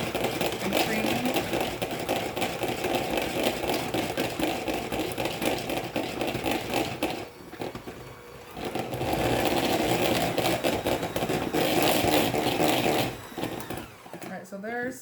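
Cream cheese being whipped with an electric mixer while making three-ingredient keto oopsie bread, a steady motor whir running nearly throughout, dipping briefly midway and cutting off near the end, with a person talking over it.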